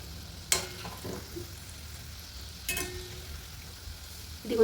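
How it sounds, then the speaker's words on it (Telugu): Khoa gulab jamun fry in hot oil while being turned, giving a soft, steady sizzle. Faint scraping and stirring clicks come through a few times, and one louder clatter sounds near the end. "ఇది మనకు డార్క్ కలర్లో వచ్చే వరకు ఇలాగ తిప్పుకుంటూ ఫ్రై చేసుకోవాలి"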